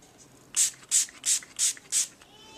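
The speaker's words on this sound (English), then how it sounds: "when you spray this, you really only want to spray it towards the bottom" Color spray paint is sprayed onto a gift box in five short, even, hissing bursts at a steady rhythm, close up and loud against a quiet room.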